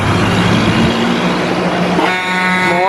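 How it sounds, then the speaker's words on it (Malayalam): A Tamil Nadu bus passing on a hill road to Ooty, its loud close engine roar sweeping by, then a long sustained horn blast toward the end. "തമിഴ്നാട് ബസ് പോകുന്നു."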